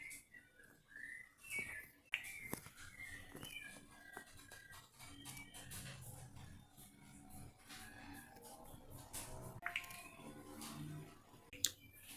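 Birds call and whistle repeatedly through a lively outdoor scene, with bright chirps and some rooster-like crowing and clucking mixed in, moderately near over a steady background.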